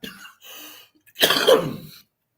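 A woman coughs once lightly and then gives a harsher, wetter hacking cough, close to the mic, at a casual happy-hour chat, with silence after it.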